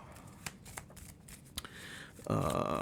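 Earthborne Rangers game cards, made with environmentally friendly materials, riffle-shuffled close up: a series of short crisp flicks and snaps, then a denser flutter of cards near the end, quiet and alone.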